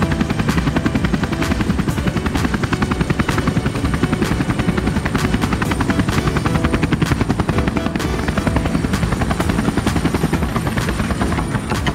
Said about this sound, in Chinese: 飞机要来了